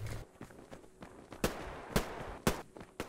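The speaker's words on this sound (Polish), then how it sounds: "Tu są jakieś strzały." Gunshots in the online shooter Survarium: four sharp, evenly spaced cracks about half a second apart, moderately close, over a faint background of footsteps and scuffling.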